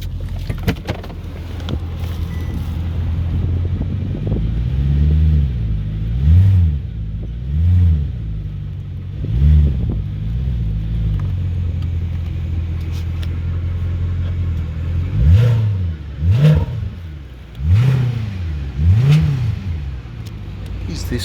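A 2008 Mercedes S63 with 64k km has its engine revved repeatedly in an open space, loud rising and falling rumbles in two bursts, with a suspected exhaust rattle, against a steady idle.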